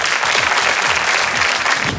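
Studio audience applauding a singer on the Kurdistan Star TV talent show, a loud, dense, continuous wash of clapping that holds steady throughout.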